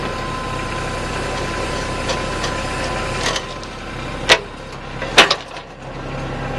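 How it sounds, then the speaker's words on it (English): Kubota BH77 backhoe idles steadily while its bucket curls and the dipperstick cylinder compresses, with a few sharp metallic clicks and knocks over the constant engine drone. "There's the dipperstick cylinder. Curl the bucket. The cylinder compresses."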